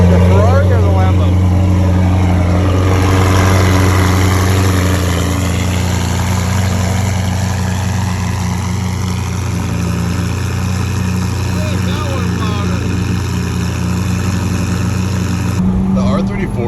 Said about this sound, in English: What's louder? The Ferrari or the Lambo?